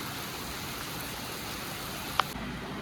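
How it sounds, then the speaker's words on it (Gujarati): Rain falling in Sidhpur, a steady soft hiss of downpour throughout with one brief click near the end. "આજ તો આવી ગયો છે વરસાદ, તમે જોઈ શકો છો"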